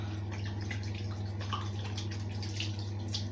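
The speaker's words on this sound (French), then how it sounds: "Je me rince les doigts." Steady running tap water splashing over fingers at a sink, a continuous close hiss with small irregular drips and spatters throughout, under a low constant hum.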